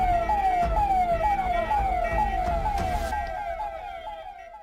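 A vehicle hooter siren wails close and loud in rapid repeating upward sweeps over traffic rumble, fading slightly toward the end.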